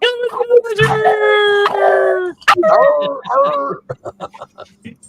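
A dog howls and yips along with people chanting a repeated phrase at a Houston meet-up, the howl rising in long wavering tones against the voices before trailing into short yelps.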